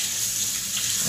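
Water running from a bathroom tap, a steady, close hiss of flowing water that fills the whole brief moment.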